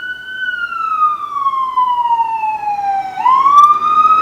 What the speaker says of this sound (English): Oh my god, ambulances.